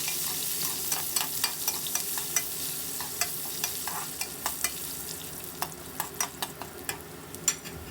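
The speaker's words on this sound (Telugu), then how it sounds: "కొద్దిగా ఉల్లిపాయ ముక్కలు, ఒక 2-3 పచ్చిమిర్చి కూడా వేసేసి ఫ్రై చేద్దాము" Chopped onion pieces and two or three green chillies fry in hot oil with a steady sizzle, punctuated by repeated scraping clicks of a spoon stirring them in the pan, close and clear with no talk.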